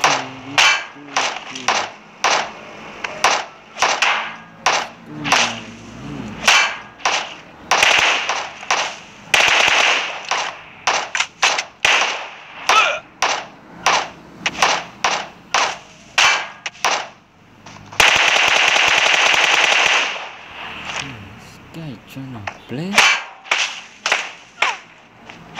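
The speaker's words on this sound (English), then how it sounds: "Oh shit, I'm being shot at." Gunfire in the video game PUBG: rapid, loud bursts of sharp shots crackle one after another, with short pauses and one dense stretch of continuous fire partway through.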